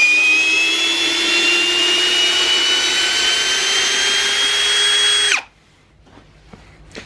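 A Ryobi R18PD7 cordless drill whines steadily at high speed under load for several seconds without slowing, then cuts off abruptly, leaving near silence with a few faint clicks.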